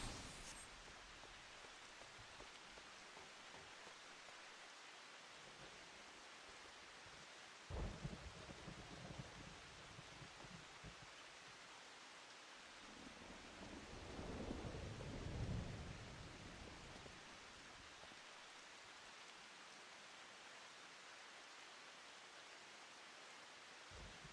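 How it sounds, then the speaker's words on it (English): Steady rain with rolling thunder in a Final Fantasy XIV game scene, a constant hiss of rainfall broken by a sharp thunder crack and a longer swelling rumble, with no talking. "That's why we have that raining noise."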